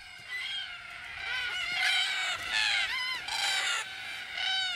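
A flock of cockatoos calls noisily at a watering hole in the evening, with raucous, overlapping screeches that stay loud and close without a break.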